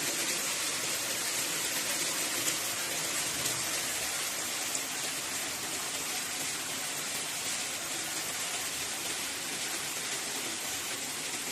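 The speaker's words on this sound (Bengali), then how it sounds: "বৃষ্টির রিমঝিম শব্দ কিন্তু ভালোই লাগছে।" Steady rainfall heard from inside a kitchen, an unbroken wash of pattering drops, moderately loud and even, with a few louder splashes now and then.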